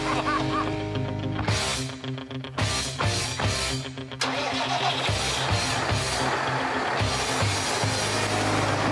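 A heavy Massey Ferguson tractor engine cranks and catches, then settles into a loud, rumbling idle with surges of revving; no speech is heard.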